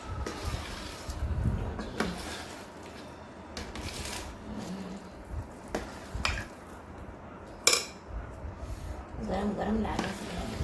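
Rice flour dough is stirred and mixed in a pot for sev, giving irregular scraping and knocking strokes, with a few sharper clatters and softer rubbing sounds between them, close by.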